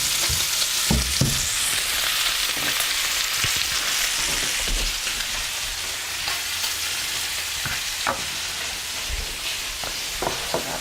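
Food, lamb and collards, frying in a pan with a continuous dense sizzle, close and steady, punctuated by a few sharp clicks and knocks of utensils or dishes being handled nearby.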